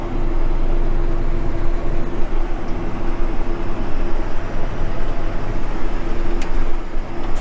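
John Deere 9570RT tracked tractor running at full throttle in 18th gear, a loud, steady, deep engine drone with rumbling track and drivetrain noise heard from inside the cab, no talking.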